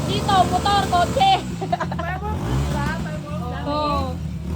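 Cars and motorcycles revving their engines for New Year, a loud nearby rising and falling engine roar with horn-like tones, while people talk over it.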